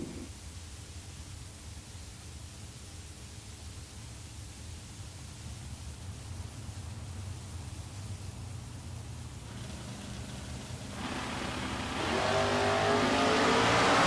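Drag race cars at a Texas Motorplex bracket race idle with a low, steady engine rumble, then roar louder into a wide, rushing launch near the end, with no voices.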